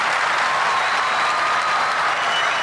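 Sustained applause from an audience at a political rally speech by Nawaz Sharif, a dense, even wash of many hands clapping that runs steadily throughout.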